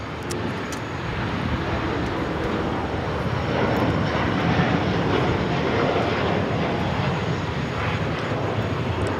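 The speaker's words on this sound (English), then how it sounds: "This is Latam Airlines 603 taking off to Santiago, Chile on the 787-8 Dreamliner" A Latam Airlines Boeing 787-8 Dreamliner takes off at Los Angeles airport, its jet engines roaring loud and steady, swelling slightly midway and holding a broad sustained rumble throughout.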